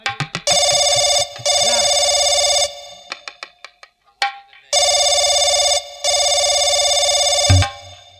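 Loud electronic telephone ringing in two long bursts, separated by a short gap with a few faint clicks and tones.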